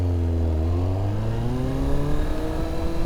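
A motorcycle engine revs up before a wheelie attempt, a loud, close, buzzing drone that climbs steadily in pitch and holds strong throughout.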